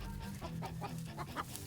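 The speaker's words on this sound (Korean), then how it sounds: "날개까지 펼치고 무서운 속도로 도망치는 닭을" Chickens on a poultry farm clucking as herding dogs chase them, a run of quick, agitated clucks and squawks repeating in an irregular rhythm, fairly close but quiet.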